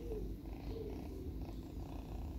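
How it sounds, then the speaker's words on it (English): A British Shorthair cat purring close up in a garden, a low continuous rumbling purr with soft rhythmic pulses, quiet and alone without talk. "Can you hear her purring?"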